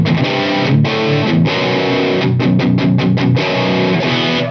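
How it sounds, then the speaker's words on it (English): An electric guitar with a humbucker pickup plays a dirty, distorted tone through an amplifier, with chords and a quick choppy rhythmic passage, loud and close with no voice. "you get that beautiful humbucker tone"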